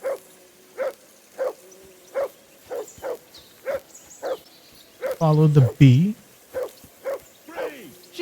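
A dog barks in the video game Kingdom Come Deliverance 2, giving a steady run of short, evenly spaced barks at close range. A voice speaks briefly partway through, and the barking continues afterward.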